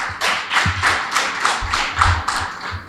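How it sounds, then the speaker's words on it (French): Audience members clap at a school open day event in Grand-Popo, sounding as a series of separate, fairly loud claps with uneven spacing and a few dull thumps rather than a full roar. "Ça, je vous demande de vous applaudir pour ça."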